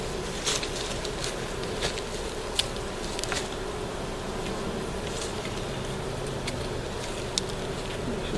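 Honey bees swarm around an open hive box in a bee yard, a constant close buzzing hum with scattered soft taps and pattering as insects bump about, no voices.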